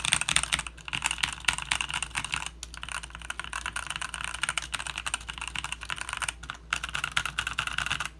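Redragon S113 gaming keyboard with a foam-modded case and well broken-in switches, typed on in fast, dense bursts of clacky keystrokes, close and clear, with brief pauses between runs and no talking.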